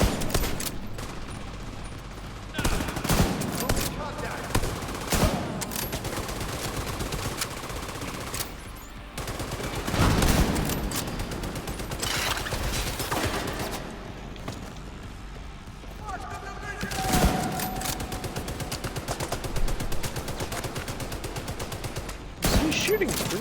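Video game gunfire in The Division 2, repeated bursts of shots rattling through the clip, some close and sharp, others duller, with players talking over the shooting.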